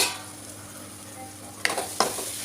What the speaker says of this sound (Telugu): అడగంటకుండా ఊరికే కలుపుకుంటూ ఉండాలి.